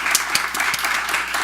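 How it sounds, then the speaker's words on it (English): Audience at a colloquium panel on health and justice clapping after the presentations, a modest round of individual claps heard close and fairly sparse, lasting briefly. "Please join me in offering a round of applause."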